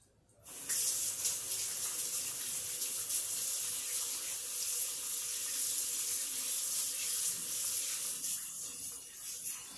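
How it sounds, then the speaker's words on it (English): A kitchen tap turns on sharply and runs in a steady, close hiss of water splashing into the sink as hands are washed, holding even for about nine seconds before easing slightly. "I'm going to wash my hands."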